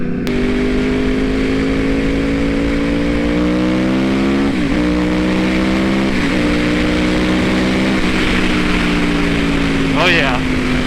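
A 2012 Yamaha R1 sport motorcycle engine pulls hard in loud, rising runs of acceleration, its pitch climbing through gear changes around four and six seconds and dipping again near ten seconds, with wind noise behind.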